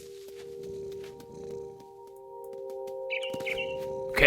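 In a video game, a barn swallow gives a few brief, high chirps near the end over steady droning music, closing on a sharper burst.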